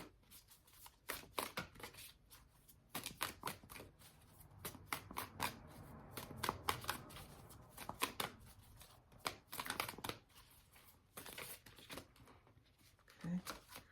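Tarot cards are shuffled and laid out for a nine-card spread, producing soft papery riffles, flicks and snaps that come and go, with someone talking quietly throughout.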